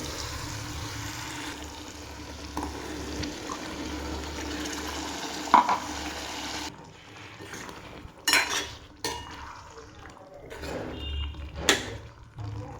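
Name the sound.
frying and stirring ground masala in a pan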